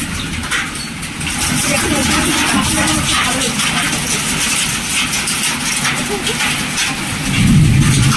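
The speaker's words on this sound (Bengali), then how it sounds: "এখন শুরু হয়ে গেছে শিলাবৃষ্টি, এই তো শিল পড়ছে" Hail falling on grass on a rainy day makes a loud, dense, continuous patter and rattle throughout.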